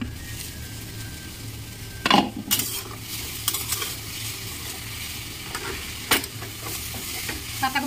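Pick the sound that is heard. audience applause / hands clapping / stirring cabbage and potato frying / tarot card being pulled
stirring cabbage and potato frying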